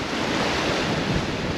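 Ocean waves and steady wind roar around a sailboat in the middle of the Bay of Bengal, a dense continuous wash with wind buffeting the microphone and no voices.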